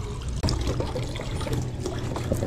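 Water poured over a dog to soak its coat before a tick treatment, a steady close splashing and trickling stream running continuously with one brief break near the start.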